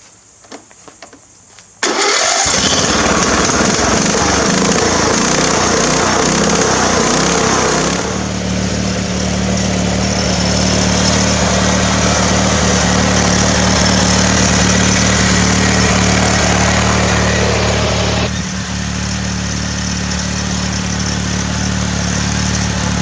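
A lawn mower engine cranks and catches, then runs at a loud, steady close idle with a shift in pitch partway and a slight drop near the end.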